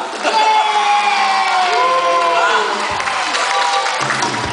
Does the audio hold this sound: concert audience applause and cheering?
yes